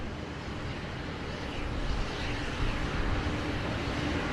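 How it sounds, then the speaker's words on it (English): FedEx MD-11 departing in rain at Sydney Airport, a broad distant jet roar that swells slightly and holds steady, blended with rain hiss. "let's enjoy the FedEx MD-11 departing to Guangzhou"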